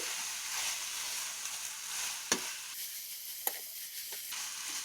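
Kashmiri sochal mixture frying in oil after its water has cooked off, a continuous close sizzle with two sharp knocks of a spoon against the pan.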